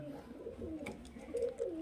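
A highflyer pigeon, one of a male and female pair of Madrasi and Kalshira pigeons, gives a low, soft, rolling coo at close range, with a second coo near the end.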